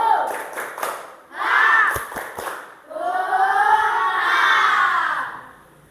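Primary school pupils in a classroom perform a spirit clap, bursts of quick rhythmic claps and thumps mixed with loud shouted chanting from the children, in several short phrases.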